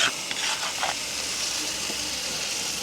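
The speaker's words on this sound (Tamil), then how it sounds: "அப்படியே நாங்கள் வெந்தயத்தை சேர்த்துக்கொள்ளுவோம்." Soaked fenugreek seeds hitting a hot pan give a steady, bright sizzle and hiss with some stirring, close and continuous, no talking.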